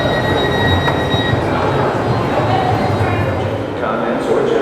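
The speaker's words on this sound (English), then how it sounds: "there's this train after train after train that comes." An LA Metro train on the new A and E line pulls into an underground station with a loud steady rumble, whining wheel squeal and a high tonal hum, the noise easing slightly near the end.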